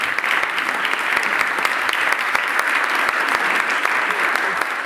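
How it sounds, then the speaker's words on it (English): Steady round of applause from an audience at a hearing on the Pennsylvania election code, dense continuous clapping from many hands, close and loud, sustained evenly for several seconds without talk. "We have a round of applause, please, for Karen, Kelly, and Shireen"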